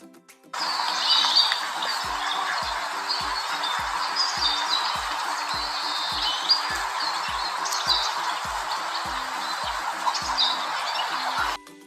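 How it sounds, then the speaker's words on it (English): Farm ducks make a dense, continuous chorus of quacking and chatter that holds at an even level throughout, with a regular soft thumping beat underneath. "Duck."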